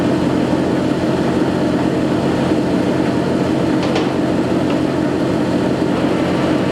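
A Warner & Swasey sliding bed turret lathe, a #5 machine, runs at high speed with a steady, loud, broadband mechanical roar and faint intermittent ticks, no talk.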